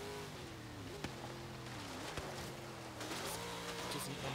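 A 1955 Hoonigan Chevrolet Bel Air's engine in Forza Horizon 3 drones steadily, its pitch sliding up and down through gear changes, with brief clunks and a rise in loudness toward the end.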